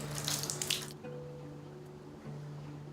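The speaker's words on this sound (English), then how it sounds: "for my birthday, we have running water" Running water from a tap in a newly built house gives a steady wet splash. It starts louder with bright spattering and then settles into a softer, continuous flow over a low hum, with no talking.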